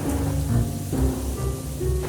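Cartoon storm from a dark cloud hanging over one character: steady rain hiss with low rumbling thunder swelling and fading underneath, fairly close and continuous, with no voices.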